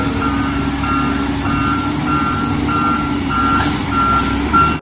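A toy excavator gives repeated, evenly spaced reversing beeps, about nine in a row, loud and close over a constant mechanical hum.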